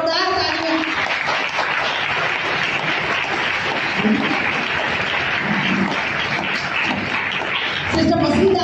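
A church congregation applauds as a guest comes on stage at a Full Gospel Church in Bhilai, with loud, steady clapping from many people that continues throughout while voices talk and call out under it.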